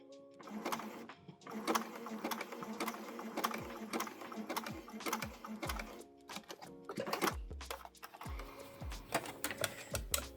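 A sewing machine stitches a button onto fabric, a fast rhythmic clatter of the needle in bursts with brief pauses, close and clear, the hand wheel turned between runs.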